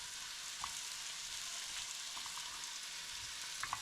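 Cooked chickpeas sizzle steadily in a hot pan while being stirred around, a continuous close frying hiss with a few soft scrapes and clicks of the utensil, no voices.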